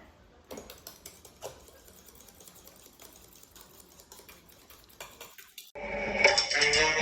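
A cocktail being stirred, with rapid small clinks and rattles of a spoon against glass and ice, fairly quiet and close, before a louder burst of different noise at the end.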